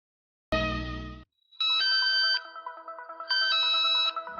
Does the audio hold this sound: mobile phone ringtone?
yes